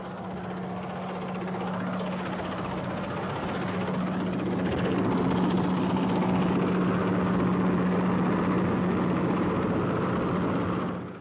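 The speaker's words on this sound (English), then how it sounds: "Helicopters worked ceaselessly, ferrying artillery, rations, and above all, ammunition." Military helicopters flying during the Falklands War, ferrying artillery and ammunition: a steady, loud rotor and engine drone with a constant low hum that holds through the whole stretch, alone with no voices.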